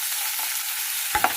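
Red chilies, shallots and chopped tomatoes roast together in a pan for chutney, giving a steady close frying hiss, with a couple of sharp stirring clinks near the end.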